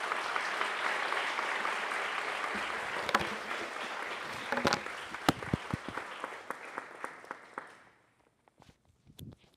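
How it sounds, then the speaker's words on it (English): Audience applause at an academic honors day ceremony rises as steady clapping from a crowd, then thins to a few scattered claps before fading to near silence. "So if you will please give them a round of applause"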